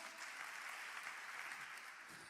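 A church congregation claps together in praise, a dense, even patter of applause held at a steady level and heard from some distance.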